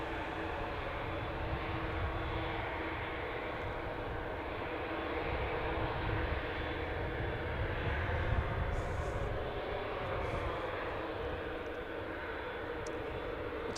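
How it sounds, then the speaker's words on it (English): A Boeing 787-9 Dreamliner in Juneyao Air's colourful petals livery roars steadily at Manchester Airport, a broad continuous jet-engine rumble that holds strong and close throughout with no talk. "787-9 Dreamliner Journey Out Air in the colourful petals livery."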